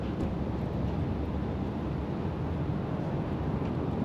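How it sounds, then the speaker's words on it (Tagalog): Steady wind buffeting a microphone outdoors at a Florida welcome center on I-10 East, a constant low roar with no talking. "Buti mahangin dito, babe."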